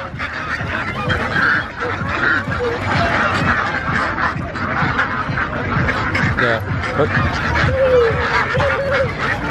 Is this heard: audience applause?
no